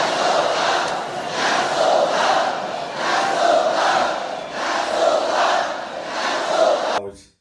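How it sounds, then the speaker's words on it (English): A fight crowd in a Jean-Claude Van Damme film, at the bout with Tong Po, chants in loud, rhythmic, roughly one-second pulses that repeat steadily before cutting off abruptly. "And the crowd starts chanting, "Knock Sue Cow.""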